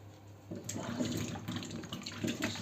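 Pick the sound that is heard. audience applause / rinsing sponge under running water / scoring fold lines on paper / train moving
rinsing sponge under running water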